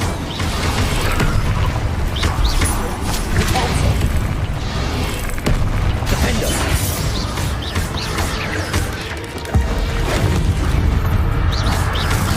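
A fire spell from the video game Hogwarts Legacy roars as a dense, continuous whoosh and rumble with crackling bursts and booms, loud and sustained throughout, mixed with game sound effects.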